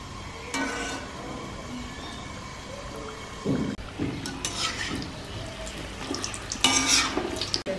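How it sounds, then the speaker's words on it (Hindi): Samosas frying in hot oil on full flame, giving a crackling sizzle that swells in bursts, with occasional clatter of a utensil against the pan. The sound is close, and no one speaks. "अब इनको हमने ज़्यादा नहीं देर तक फ्राई करना, बस तेल ज़्यादा गर्म होगा तो बस फटाफट हमने इनको निकाल लेना।"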